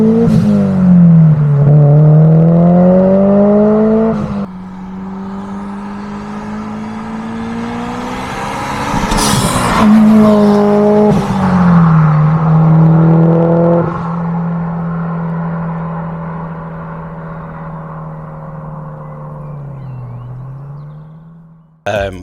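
A Subaru Impreza STI Spec C Type RA with an aftermarket catback exhaust revs up and settles repeatedly, deep and throaty, pitch rising and falling, then idles with a low steady burble.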